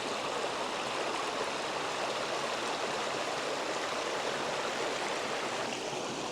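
A stream runs through Seven Ladders Canyon in Romania, rushing in a steady, broad hiss of flowing water that stays even and fairly near throughout, with no voices over it.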